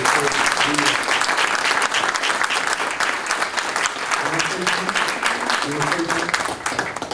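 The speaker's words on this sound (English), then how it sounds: "from Bob Daney, please give him one more round of applause" Sustained applause from a sizable crowd fills the space, steady and loud throughout, with a few voices faintly audible underneath.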